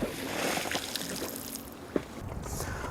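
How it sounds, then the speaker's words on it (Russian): An anchor goes over the side of a small boat on a lake, with splashing and water sloshing, a sharp splash near the middle, and a steady gurgle of water against the hull. "сейчас я брошу якорь"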